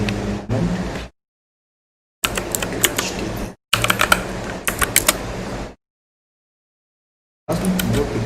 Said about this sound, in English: How's my keyboard picking up? These strokes are loud.